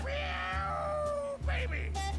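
A cat meows in the Grim Fandango game, a drawn-out wavering cry lasting over a second followed by shorter mewing calls, heard over steady game background sound.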